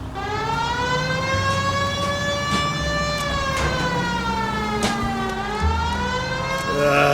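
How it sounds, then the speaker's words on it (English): A police car siren in the video game LA Noire wails loudly and continuously, its pitch sweeping up and down in long cycles with an engine rumbling beneath. "We have a siren."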